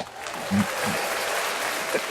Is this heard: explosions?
no